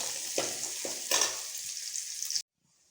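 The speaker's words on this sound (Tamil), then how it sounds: "வெங்காயம் இந்தளவுக்கு வதக்கிக்கோங்க." About three handfuls of chopped onions sautéing in a pan, a steady loud sizzle with a few stirring scrapes, close up, cutting off abruptly near the end.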